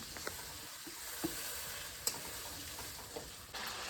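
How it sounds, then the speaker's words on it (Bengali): Spice masala with turmeric and salt frying in oil for a Bengali koi fish curry, a soft steady sizzle with a few faint clicks and taps, fairly quiet and close. "এবার সুন্দর করে মশলাটা কষিয়ে নেব।"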